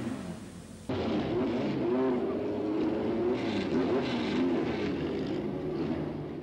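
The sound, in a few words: Martini LK37 Alfa Romeo Formula 3 race car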